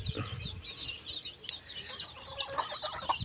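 A caged wild chicken (labuyo) gives repeated soft clucks and chirps, fairly faint, over a steady background hiss.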